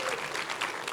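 A school district audience gives dense, sustained applause for pre-K partnership members and community supporters, the clapping close and full throughout with a faint murmur of crowd noise.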